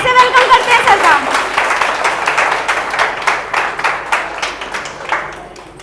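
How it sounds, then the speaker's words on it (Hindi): An audience at a direct-selling seminar claps together, loud, close and dense at first, then thinning into slower scattered claps that fade out. "एक बार जोरदार ताली बजाएंगे सर के लिए, बहुत जोर से"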